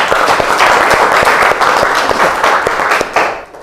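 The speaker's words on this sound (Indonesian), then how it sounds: "Kita beri tepuk tangan untuk kelompok kelima." Classroom applause for a fifth student group after their presentation at a high school, dense clapping from a room of students with a few sharper individual claps standing out, fading at the end.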